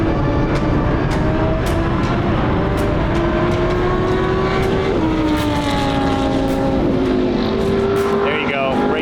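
A Lamborghini race car on a racetrack, its engine screaming loud and close with rising, shifting pitch sweeps as it picks up pace, and a voice talks over it.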